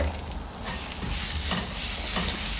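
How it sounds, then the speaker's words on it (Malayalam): Onion sautéing in a pan for chemeen choru, a prawn mixed rice, with a dense continuous sizzle close up and occasional stirring scrapes throughout. "ഇത് വീണ്ടും നന്നായിട്ട് സോട്ട് ചെയ്യുക."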